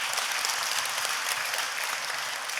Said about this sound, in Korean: 감사의 박수 한 번 더 주시고